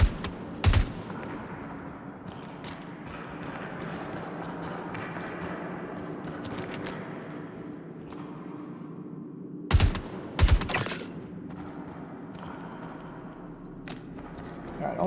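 Bursts of gunfire in the space game Star Citizen, fired at a person: a loud volley near the start and two more close together later, over a steady droning game background.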